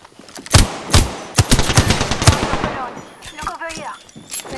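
Rapid bursts of automatic gunfire from a firefight in the battle royale game Apex Legends, loud, close and sharp, with repeated volleys in the first half giving way to sparser shots amid game effects and brief voice lines.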